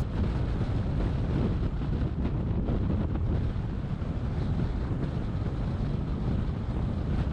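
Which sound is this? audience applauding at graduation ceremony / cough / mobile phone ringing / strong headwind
strong headwind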